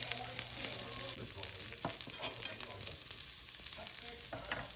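A broccoli omelette fries in a pan on a low flame, making a soft, steady sizzle with faint crackles and a few light clicks, close by and without speech.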